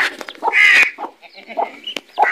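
Close, bright clucking and chirping from poultry, with short cheeping calls scattered around a louder hen-like squawk.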